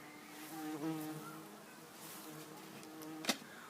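Wasps and hornets buzz around a scent trap at an apiery, several overlapping insect drones weaving close by with shifting pitch, plus a brief sharp tap near the end.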